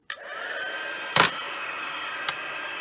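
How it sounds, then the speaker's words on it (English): Heat gun blowing hot air for embossing a paper craft, a steady loud whooshing roar with a couple of short bursts, close and continuous with no talking. "your heat gun first, so that it takes less time to emboss."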